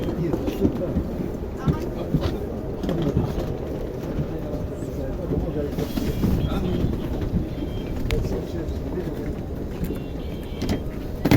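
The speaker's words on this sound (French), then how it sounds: "Là, je vais monter dans le TGV." A TGV high-speed train stands at a busy station platform, its low rumble and rail clatter forming a dense, continuous bed of sound with people's voices mixed in.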